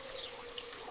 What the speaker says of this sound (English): Always start by washing your fresh summer produce under cold running water.